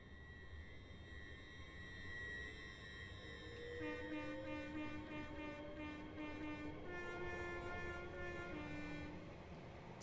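A ten-car Class 805 train runs in Train Sim World with a steady rolling rumble and layered tonal whines that rise and shift, clicking faintly over the rail joints, with no talking.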